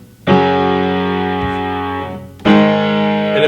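On piano, two sustained chords are struck: a triad voiced with the octave on top and the third left out. Each chord rings full and close for about two seconds before the next is played.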